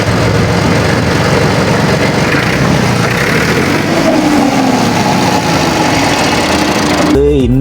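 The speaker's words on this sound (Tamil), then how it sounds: "வாருங்கள், நாங்கள் இனி டிராக்டரை ஸ்டார்ட் பண்ணி பார்ப்போம்." A Massey Ferguson 135 tractor's diesel engine runs at idle, a loud, close, steady rattling chug that continues throughout and ends with a brief clatter.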